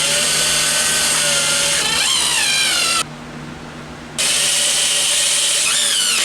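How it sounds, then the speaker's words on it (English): A power drill countersinks holes for drywall screws in scrap wood, whining in two loud bursts separated by a short pause, with rising pitch as the bit bites. "I'm going to countersink them because I'm using drywall screws that are countersink screws"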